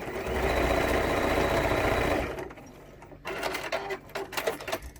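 A sewing machine runs steadily for about two seconds, stitching a fabric pouch with a dense whirring drone, then stops, leaving scattered light clicks and handling noises.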